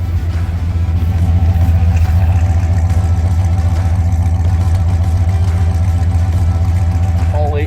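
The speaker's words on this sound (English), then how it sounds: "It's idling all on its own." A 1981 Ford F150 V8 idling on its own after more than 16 years unused, a loud, steady, throbbing low rumble with even firing, with someone talking over it.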